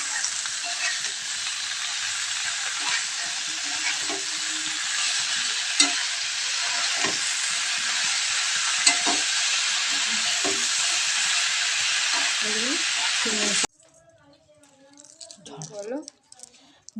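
Leafy greens stir-fried with salt in a hot pan, a steady loud sizzle and hiss with scraping stirs throughout, cutting out near the end as a voice speaks.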